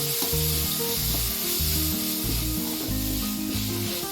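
Grated coconut frying on a low flame in a pan for a Tamil sardine curry: a steady sizzling hiss runs throughout, partly masked by louder melodic background music.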